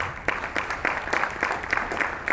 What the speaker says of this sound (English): I think the Director General needs another round of applause.